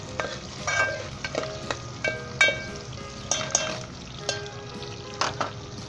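Garlic going into golden onions frying in a pan, with a steady close sizzle and repeated stirring scrapes and clatters through the whole stretch, and no talk.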